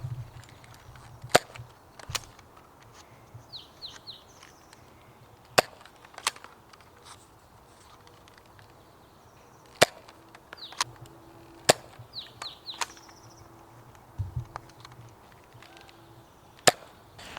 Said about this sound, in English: I'm going to be shooting the Firestrike, but I'm going to be using the original Elite darts here.